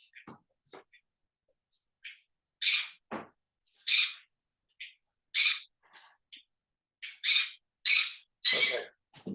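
A pet bird squawks and chirps in a series of short, sharp, close bursts, loud and bright, with quieter breathy sounds in the pauses between calls.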